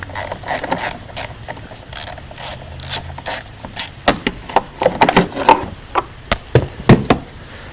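A hand ratchet backs out 5/16 bolts inside a Lincoln Town Car, with quick bursts of rapid clicking ratchet strokes close up, then sharper separate knocks and clacks from handling the tool and parts.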